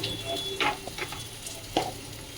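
Water is poured into a pan of food frying in a home kitchen, setting off a few quick sizzling bursts over a low steady crackle, close and fairly quiet.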